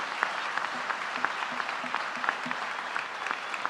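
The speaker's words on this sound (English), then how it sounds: "One more round of applause for Eston, Ella," Steady, moderately distant applause from an audience at a Jefferson High School athletes' signing ceremony, dense clapping without a break for several seconds.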